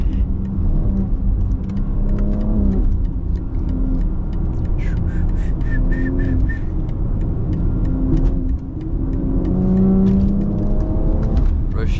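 A BMW X3 M drones steadily through Bay Area rush hour traffic, its engine hum and road rumble loud and continuous from inside the car, with faint talk now and then.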